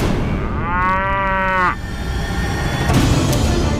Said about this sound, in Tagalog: Hinala ni Mario ang kanyang mga alagang kalabaw.